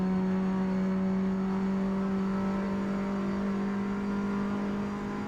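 Alpine A110 engine in Forza Motorsport racing at Virginia Raceway, a loud steady high-revving drone with strong harmonic tones, constant throughout without speech.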